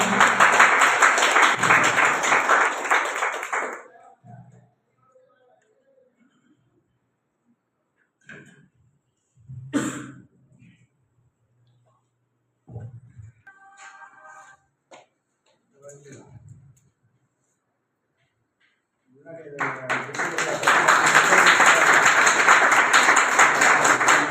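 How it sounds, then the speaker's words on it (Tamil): Loud applause at a team gathering in Gudalur: a dense burst of clapping at the start, then a quiet stretch with scattered small sounds, then a fresh, full round of clapping rising near the end. "நல்லா பலத்தை பாராட்டு கொடுங்க"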